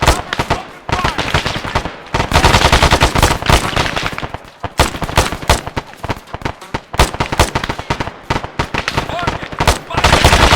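Sustained loud gunfire in the Arma 3 military shooter, rapid machine gun bursts mixed with single rifle shots crackling almost continuously, with soldiers' voices shouting orders beneath the firing.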